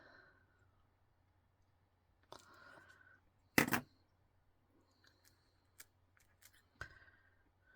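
Scissors snip through card for an autumn-themed handmade card, with one loud, crisp close cut among a few fainter snips and light paper clicks in a quiet room.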